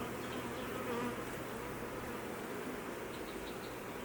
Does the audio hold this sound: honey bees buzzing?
yes